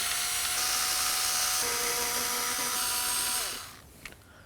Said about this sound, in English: Using a screwdriver, we're going to go ahead and take all 4 of these.